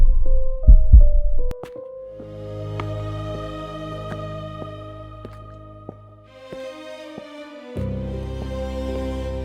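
A heartbeat sound effect in a Hindi horror story: a few heavy low thumps at the start, then a sustained eerie droning tone that swells and shifts, with no speech.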